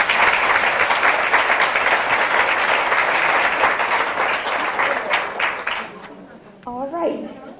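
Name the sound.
applause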